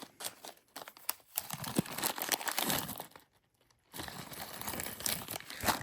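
Plastic bags holding matte rondelle beads in yellow, green and blue crinkle and tear open, with dense close rustling and crunching that pauses briefly, then resumes steadily.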